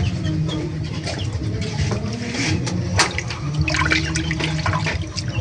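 Water pours steadily from a tap in a broad continuous rush, with small clinks and knocks of kitchen items over it.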